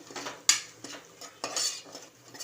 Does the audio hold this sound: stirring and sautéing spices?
yes